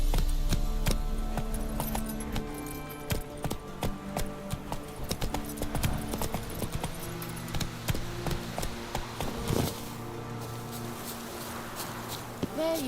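Roach, Geralt's horse in The Witcher 3, clip-clops along in a steady rhythmic hoof pattern, close and clear, with faint clinking tack and game music beneath, then slows near the end.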